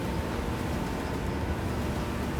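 A Sunseeker Superhawk 55 motor yacht runs at full throttle, heard as a steady, loud broadband roar of engine and rushing water and wind with no pauses.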